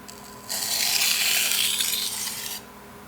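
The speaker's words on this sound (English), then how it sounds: "Flip the stone to the 1200 grit side. Now, one right side edge leading stroke." One edge-leading stroke of a knife across the 1200 grit side of a Japanese whetstone gives a single close, hissing scrape lasting about two seconds, with quiet before and after.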